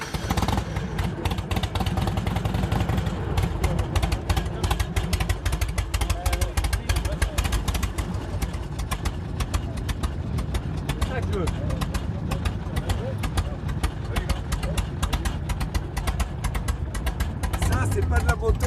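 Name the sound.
carbureted Harley-Davidson motorcycle engine idling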